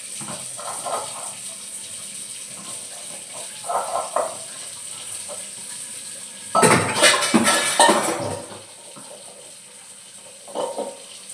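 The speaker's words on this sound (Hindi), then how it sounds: "ये देखिए मैं मांज लेती हूँ बर्तन।" Metal dishes and pots get scrubbed and rinsed at a kitchen sink while running water hisses steadily, with clattering and scraping that swells into a loud burst of clanking near the middle, close up.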